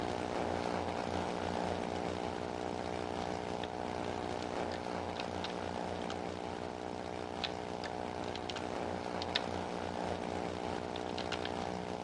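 Steady propeller aircraft engine drone inside the Second Life game, a continuous harmonic hum holding at even loudness throughout with faint ticks on top, no voices.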